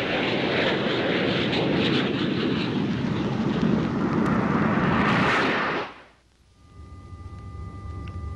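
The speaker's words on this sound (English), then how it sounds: "Within minutes of the alert, Air National Guard jets are aloft in support of the Air Force mission." Air National Guard jet aircraft fly past with a loud, sustained roar that fills the scene for several seconds, then cuts off abruptly, leaving a low hum behind.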